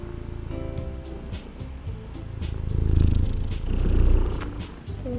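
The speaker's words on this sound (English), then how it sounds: "Oh, you want to purr?" A cat purrs steadily and close up, a low continuous rumble that swells louder midway, with a few faint clicks.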